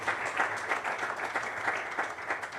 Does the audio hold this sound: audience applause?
yes